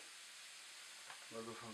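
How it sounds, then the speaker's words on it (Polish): Steady sizzling of mushrooms and chicken frying in a pan, close and continuous, with a voice briefly speaking near the end. "ciasteczki się nam smażą"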